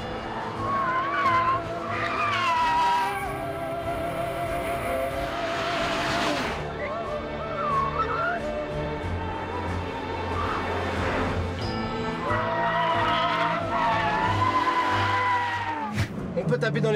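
Small BMW M car drifting on a race circuit, loud engine revving and rising tire squeal through long slides, with someone talking over the roar for much of the stretch.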